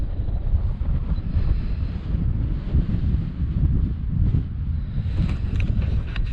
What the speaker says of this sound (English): it was pretty vicious, that wind